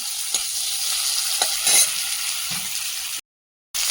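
Prawns and ginger frying in a pan in a home kitchen, a continuous sizzle with a few soft stirring knocks, close and steady, with no talk, cut off briefly by a gap near the end.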